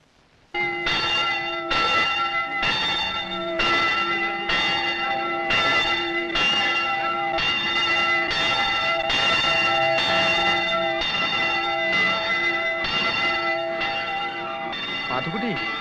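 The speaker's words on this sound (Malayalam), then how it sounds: "പള്ളിമണിയല്ലേ കേക്കണേ" A church bell in a village peals loud and steady, struck about fourteen times at an even pace, each ringing stroke overlapping the next, with a faint voice near the end.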